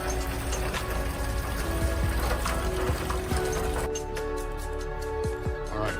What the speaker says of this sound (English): So it's still draining, it's trickling now.